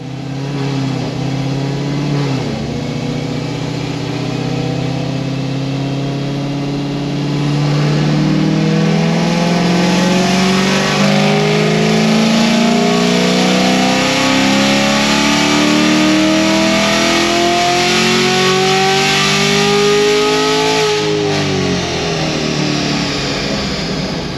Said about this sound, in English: I revved it too high and it shifted.